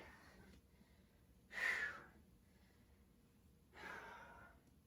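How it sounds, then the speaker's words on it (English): Two heavy, breathy exhalations after doing burpees, spaced a couple of seconds apart, close and fairly quiet against a soft background hiss. "Still heavy breathing from those burpees."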